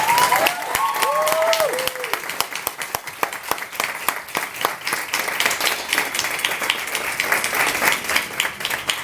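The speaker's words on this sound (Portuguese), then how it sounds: "Eu pedi desde já uma salva de palmas para a Elizabeth" An audience applauds at a book launch in a bookstore in Lisbon, with a dense, sustained wash of many hands clapping. A brief tonal sound rises above it at the start.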